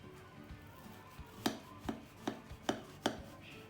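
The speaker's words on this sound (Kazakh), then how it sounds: "Енді қазір кесіп көреміз." Knife slicing through a powdered-sugar-dusted lemon pie, five crisp chopping taps against the board at a steady, evenly spaced rhythm, close and clear with no talk.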